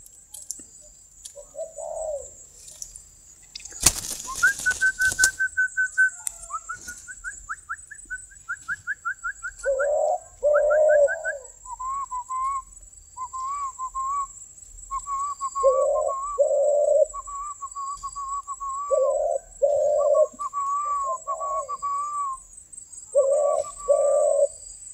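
A dove cooing steadily with repeated low, paired coos in a regular rhythm, mixed with higher chirping bird calls over a constant thin high whine. There is one sharp crackle near the start and no talking.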